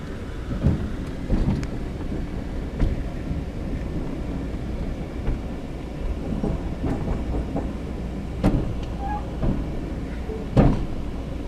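An Amtrak Empire Builder train rolls into Cut Bank station in Montana, heard from on board as a low steady rumble broken by scattered clunks and rail knocks.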